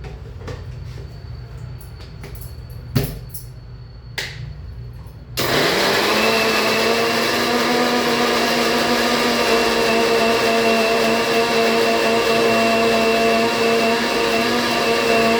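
A mixer grinder blends beetroot with water, sugar, salt and cardamom, starting abruptly after a few seconds of faint knocks and clatter, then running as a loud, steady, high motor whine close by until the end, with no voices.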